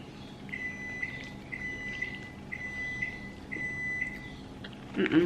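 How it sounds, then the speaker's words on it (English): Kitchen timer beeping during home baking of lunchbox snacks: a quiet, regular series of high electronic beeps in pairs repeating about every half second over room hiss, ending with a brief clatter. "That's the timer for the"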